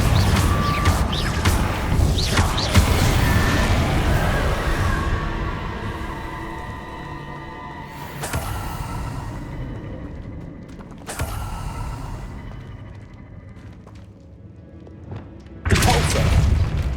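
In the Hogwarts Legacy video game, a Confringo blasting spell sets off deep booming explosions with crashing impacts and creaking debris, a loud rumble that decays, then further sharp blasts around eight, eleven and sixteen seconds.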